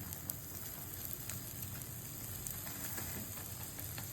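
Paratha frying in oil on a pan, a steady soft sizzle with faint crackles running continuously, with no voices.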